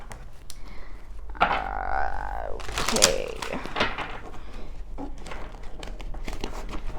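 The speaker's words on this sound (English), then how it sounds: "I'm going to shuffle this just one more time" A tarot deck is shuffled by hand, giving soft riffling and papery card flutters with a couple of firmer slaps, close and steady over faint room noise.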